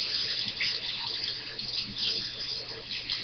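Tap water runs steadily into a sink while parrot hand-feeding utensils are rinsed, a continuous close splashing stream.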